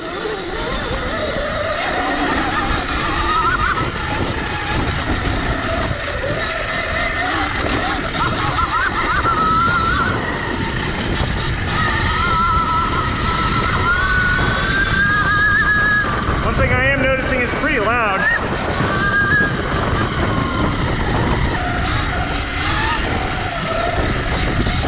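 A CZEM Drill One electric dirt bike riding off-road, its loud, continuous whining motor rising and falling in pitch with throttle over steady wind and tire rush, with a voice talking underneath.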